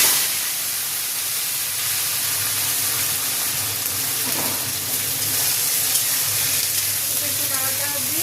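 Vegetables dropped into hot oil with panch phoron, dried red chilli, bay leaf and a pinch of asafoetida, giving a steady loud hissing sizzle that fills the whole stretch.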